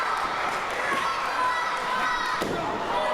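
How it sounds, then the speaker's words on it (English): A wrestling crowd at a live show cheers and roars in a steady, boisterous wash, while a commentator talks over it. "I can hear that crowd going nuts for him in the back"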